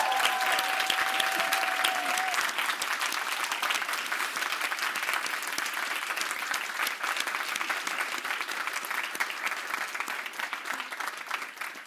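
An audience applauds the 2023 Solver class at an event, with steady, dense clapping that stays loud and continuous for about twelve seconds. A brief tone is heard near the start.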